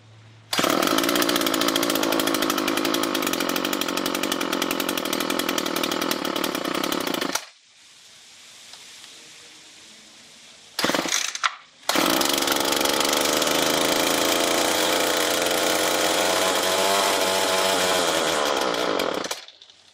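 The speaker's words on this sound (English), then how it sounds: "the trimmer runs for a while, then stops" A Poulan Pro PPB100 string trimmer engine runs loud and buzzing, cuts out into near silence, sputters briefly, then roars back up for a long stretch before stopping.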